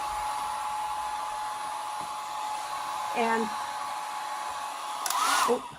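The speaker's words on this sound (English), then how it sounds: "I'm going to take my hair dryer. I'll put it on low" A hair dryer on its low setting blows a steady, fairly quiet stream of air next to a wig, with a couple of brief handling noises near the end and no talking.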